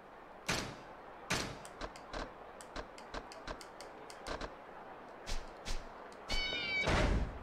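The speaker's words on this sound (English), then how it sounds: "let's unequip the meow boots" Novelty meow boots in Yakuza 0 give squeaky, meow-like footfalls in a brisk irregular series of short sharp bursts, followed by a longer drawn-out cat meow near the end, with no talking.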